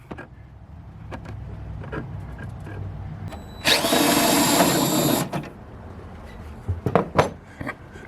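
A DeWalt power tool whirs in one steady burst of about a second and a half during work on a 2014-2020 GMC Sierra/Silverado truck's cold air intake, with quieter handling noises before and after.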